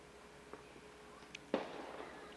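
Fireworks pop and crackle in the sky above the right field foul pole at a 13U youth baseball game, a few faint, scattered bursts followed by a louder crack at a distance.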